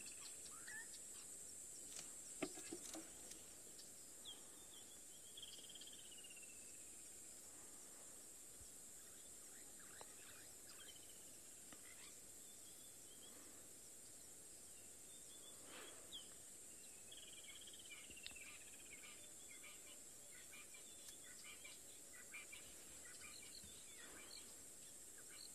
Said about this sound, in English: just sit quietly and enjoy the sounds of the bush.